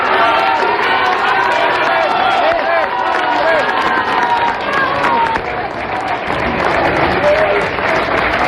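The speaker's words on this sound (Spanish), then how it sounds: "Su gabinete, junto con sus abogados, lo recibieron con aplausos en la entrada del edificio de gobierno." Cabinet members and lawyers applauding at the entrance of a government building, loud sustained clapping blended with crowd noise and movement, steady throughout with no clear pause.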